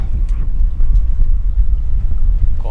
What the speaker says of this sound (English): Very windy out there, wasn't it?